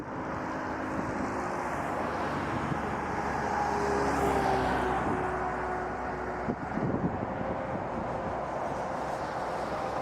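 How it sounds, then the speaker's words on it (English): An Icelandair Boeing 757-300 airliner taxis at Toronto Pearson airport, a steady broad jet roar with a rising engine whine midway, continuous and moderately distant against airport ambience. "We do have a 757 300, the Reykjavik to Reykjavik, Iceland Air 602. Taxiing up hotel right now."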